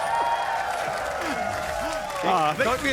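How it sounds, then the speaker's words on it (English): Crowd noise at a League of Legends esports match between 100 Thieves and Golden Guardians, a steady roar of cheering and applause swelling near the end beneath continuous commentator talk. "The crowd goes wild."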